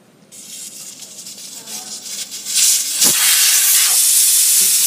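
Air hisses out of a tire once the valve stem core is removed: a steady, loud, broadband rush that swells after a moment and holds, with a brief clunk partway through.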